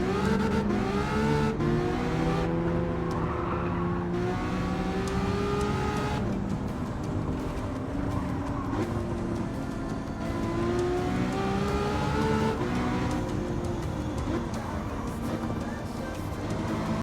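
Ferrari race car engine in Gran Turismo 7, a continuous loud revving drone with rising and falling pitch sweeps as it accelerates and shifts, with faint other cars around.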